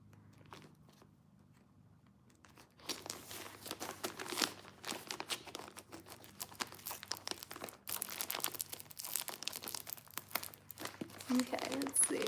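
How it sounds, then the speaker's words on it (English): Scissors cut into gift packaging, giving steady crinkling and tearing of wrapping material close by, continuing for several seconds after a quiet start. "I'll take a little bite with the scissors."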